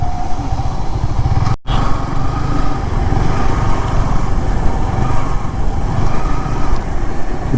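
Loud, steady engine drone of a motorcycle being ridden along Marine Drive in Cox's Bazar, with wind rush and a brief dropout early on.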